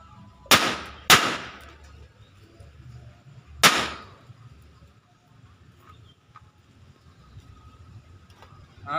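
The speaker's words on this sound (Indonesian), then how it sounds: "Kita nyalakan petasan yang terakhir guys." Lombok firecrackers go off outdoors in three sharp, loud bangs, two in quick succession and a third a few seconds later, followed by quieter background noise.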